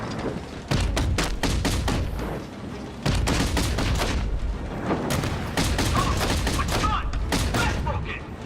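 Heavy gunfire from a Gatling cannon in the video game Batman Arkham Knight, dense rapid bursts and booms continuing loudly for several seconds with brief gaps, under a cluttered battle mix.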